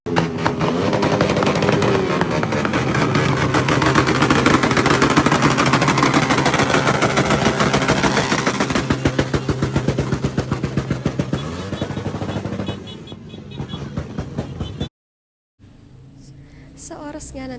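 New Year's midnight fireworks over Siargao, seen from beside a bridge: a dense, loud, continuous barrage of crackling bursts that thins out toward the end, broken by a brief gap of silence.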